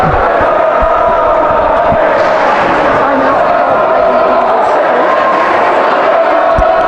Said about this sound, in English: Crowd's getting loud here with Let's Go Mountaineer chants